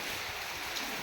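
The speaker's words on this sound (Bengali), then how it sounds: "কত বৃষ্টি হচ্ছে আমাদের পুরো ফ্ল্যাটের ভেতরে" Heavy rain pouring steadily outside a flat, a dense, even wash of falling water with no pauses, some spray blowing indoors, heard alone without voices.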